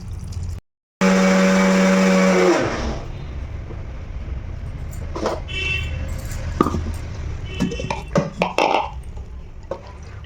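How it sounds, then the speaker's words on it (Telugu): A mixer grinder whirs loudly in a short, steady burst as it blends roasted gram, salt and water into a chutney, then cuts off, leaving faint clinks and handling noises. "ఇప్పుడు కొంచెం వాటర్ వేసుకొని చక్కగా మిక్సీ పట్టుకుందాం"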